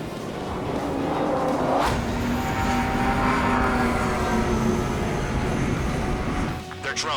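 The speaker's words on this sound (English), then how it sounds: "Aircraft approaching at high speed," Drone fighter jets in the Ace Combat 7 flight game streak in at high speed, a loud sustained jet roar with rising whine and engine drone over a steady rumble, brief radio-style voice chatter in the mix.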